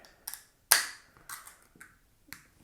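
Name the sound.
opening and pouring a bottle of Belgian golden ale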